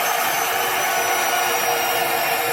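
A CNC spindle motor driven by a dual relay G540 controller runs steadily at speed, giving a continuous, even whine with broadband hiss and no change in level.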